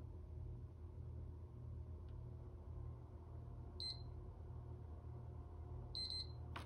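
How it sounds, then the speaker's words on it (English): PS3 console powering up, giving short high electronic beeps, one then a pair, over a steady low hum in a quiet room. "There's a double beep."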